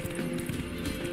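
Horse hooves gallop in The Witcher 3 as a steady, fast clip-clop rhythm, close and fairly loud, over a dense game soundscape.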